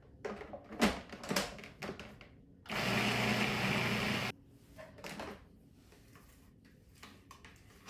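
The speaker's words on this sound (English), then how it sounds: "And then I'm going to use the magic of the food processor." A food processor mincing garlic cloves and red pepper flakes whirs steadily for about two seconds in the middle, framed by clattering and handling noises before and after.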